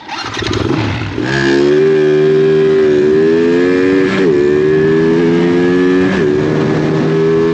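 A Yamaha LC135 motorcycle with an aftermarket exhaust and 72 mm engine revving loudly and steadily up close, pitch rising and settling through a few throttle blips, with no talking.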